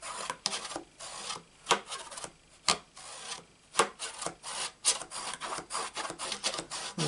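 Paper is rubbed down firmly with a bone folder in quick, scraping strokes, a dry rasp repeating irregularly at close range with no talking.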